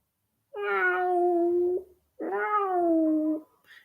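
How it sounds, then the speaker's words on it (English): A cat meows twice, two drawn-out, clear, close meows separated by a short pause, with silence around them. "Meow."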